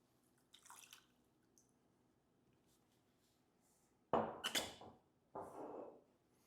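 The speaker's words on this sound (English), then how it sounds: "this drink is going to call for 2 ounces of blended scotch with the Monkey Shoulder that I have here. So you can go ahead and pour that straight into the glass" Monkey Shoulder blended scotch poured into a glass over ice, heard as a few short, close splashing and dripping bursts with quiet gaps between them, no voices.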